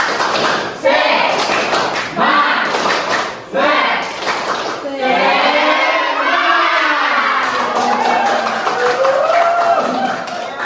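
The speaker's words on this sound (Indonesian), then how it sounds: "Tepuk semangat" A group of students in an Indonesian accounting class does the tepuk semangat clapping chant, rhythmic bursts of clapping mixed with shouted chanting voices, then cheering and excited crowd chatter.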